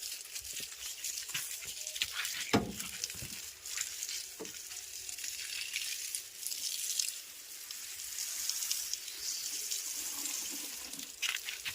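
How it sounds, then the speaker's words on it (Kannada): Steady splashing water pours continuously over plants for several seconds, a broad hiss of spray with occasional louder drips and knocks, no voices. "ಗಿಡಕ್ಕೆ ನೀರು ಹಾಕೋದು."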